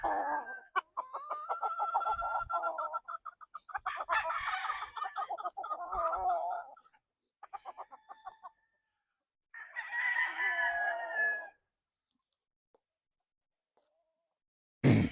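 Gamefowl stag roosters, a Roundhead among them, crow several times in long, loud calls separated by short pauses, with a few clucks and farmyard bird sounds in between.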